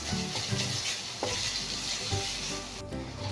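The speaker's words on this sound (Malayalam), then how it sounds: "ഇതും കൂടെ ചേർത്ത് നന്നായി ഒന്ന് മിക്സ് ചെയ്ത് ഒന്ന് വഴറ്റിയെടുക്കാം." Garlic, ginger paste and slit green chillies sautéing in a pan for palak chicken, a continuous close sizzle with stirring scrapes and clinks throughout.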